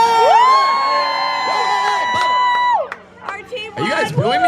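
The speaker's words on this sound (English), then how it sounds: "Are you guys booing me?" A crowd of spectators at Gatorland in Orlando lets out a long, loud sustained group call, booing in unison before breaking into scattered shouts and cheers.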